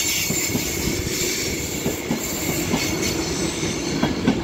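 A Class 390 Pendolino, 390130 City of Edinburgh, rolls past on the West Coast Main Line at Stockport station with a loud steady rumble, rhythmic wheel clicks over rail joints and faint squeal.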